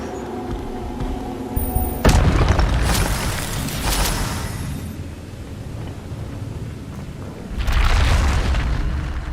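A spell effect from the Hogwarts Legacy video game: a sudden deep booming burst that rumbles and fades, then a second swelling whoosh-boom near the end, loud and without speech.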